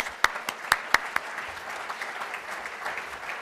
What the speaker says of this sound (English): Let's greet everybody with a round of applause.